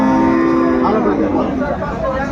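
A cow lows once, long and loud, at the busy Aftabganj rural cattle market selling cows with calves, close by with crowd murmur behind.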